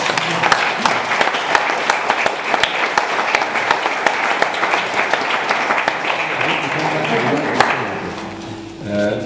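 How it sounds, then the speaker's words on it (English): Sustained, dense clapping from a room full of guests at a retirement party, loud and close, tapering off at the end as voices come through. "Last round of applause, Paddy."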